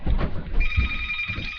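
A telephone rings indoors with a steady electronic tone, while low thumps and a little background noise sit beneath it.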